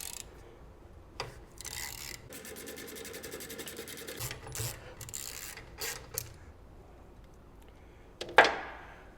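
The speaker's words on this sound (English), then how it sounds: "A ratchet with the 12 mil socket on it." Ratchet with a 12 mm socket working a Loctite-secured bolt during a brake pedal install on a T7, with quiet clicking pawl strokes and scraping in irregular bursts, faint and close, ending in a sharp metallic clack.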